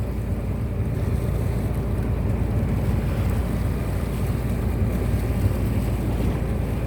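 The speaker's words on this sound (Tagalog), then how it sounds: "Medyo maalon-alon ang karagatan mga kabloy." Constant loud rumble of wind and choppy water around a moving boat, with waves churning steadily and no voices.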